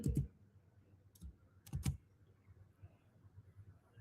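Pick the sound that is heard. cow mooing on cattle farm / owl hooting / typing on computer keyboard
typing on computer keyboard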